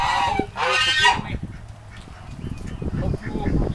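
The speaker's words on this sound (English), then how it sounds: "Hope you will forgive the stupid geese in the background." Geese honk loudly in two bursts outdoors on a rabbit-keeping homestead, then continue as fainter, scattered calls over a low rumble of wind and handling noise.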